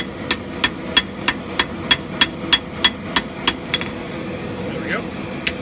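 Hammer blows forge-welding a Norse-style tomahawk: about a dozen sharp, evenly spaced metallic strikes ringing close and loud, then slowing to a couple of scattered hits, with no talk over them.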